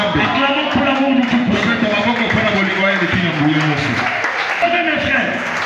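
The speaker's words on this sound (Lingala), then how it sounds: "Acclamons pour l'amour de Dieu." A church congregation applauds steadily through the whole stretch, with voices calling and singing over the clapping.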